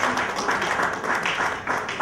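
Conference audience applauding steadily and loudly, a dense wash of many hands clapping throughout without pause.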